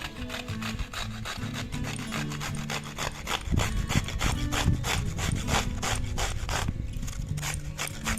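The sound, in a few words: grating ridge gourd on hand grater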